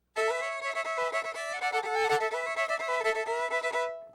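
Solo fiddle plays a lively Louisiana song melody with bowed rhythmic accents, bright and continuous for about four seconds, close and clear with no talking.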